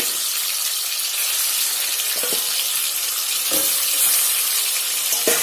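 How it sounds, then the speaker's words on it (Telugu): Chicken pieces shallow fried in oil on a medium stove for Kashmiri chicken biryani, a loud steady sizzle with a few sharp spatula taps against the pan, close and without talk. "అందుకే నేను షాలో ఫ్రై చేస్తున్నాను"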